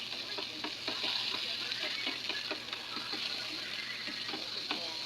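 Garlic sautés in the oil from Spanish-style sardines while being stirred, for ginisang ampalaya. A steady bright sizzle runs throughout, with rhythmic spatula scrapes and clicks close by, and there is no talking.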